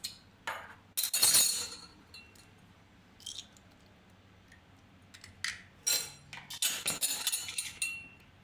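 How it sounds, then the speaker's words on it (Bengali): Eggs are cracked against a bowl of boiled potato, giving sharp clinks and taps in scattered bursts, close and fairly quiet, with no talking. "এবার এর মধ্যে ডিমগুলো ফাটিয়ে দিয়ে দিচ্ছি।"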